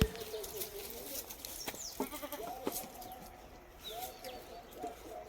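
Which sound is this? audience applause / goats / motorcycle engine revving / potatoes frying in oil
goats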